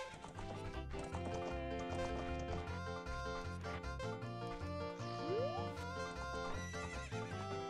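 Horse neighing in The Legend of Zelda: Ocarina of Time, a whinny riding over looping game music with rhythmic hoof clip-clops, the call rising sharply midway through.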